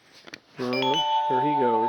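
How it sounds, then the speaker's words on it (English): A mobile phone rings with a sustained melodic electronic tone that starts after a brief spoken remark, loud and close, playing on alone. "that's my phone going off"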